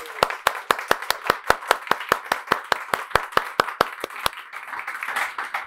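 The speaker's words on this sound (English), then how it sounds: "a round of applause for everybody who's helped us out so well here today at Patent Pending." Audience clapping at a bar industry class at Patent Pending: a quick, steady run of about twenty crisp, evenly spaced claps that spreads into a looser wash of applause at the end.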